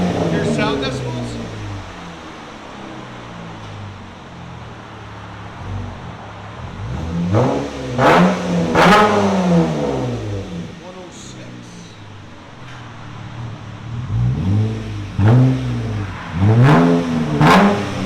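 A 2013 Dodge Charger AWD with a 3.6L V6 and Purple Hornet glass pack mufflers is revved in several sharp bursts over a steady idle, loud and close, with people talking in the background.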